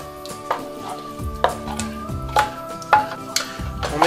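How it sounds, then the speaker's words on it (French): A spoon working through a thick cauliflower and onion cream mixture for a gratin, giving soft wet scrapes and periodic clinks against the dish at a steady, unhurried rhythm, close and fairly quiet. "On mélange le tout maintenant."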